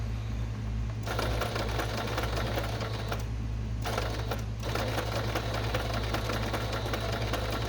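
Sewing machine stitching lace and ruffles onto fabric for a soft-cover junk journal, a close rapid mechanical whir that starts, pauses briefly twice, and resumes, with no talking.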